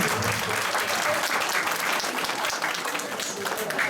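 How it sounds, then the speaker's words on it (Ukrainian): Steady applause from a church congregation at a Saint Nicholas event for a child, dense clapping filling the whole stretch, with a voice speaking over it. "Йому оплески також підтримайте його."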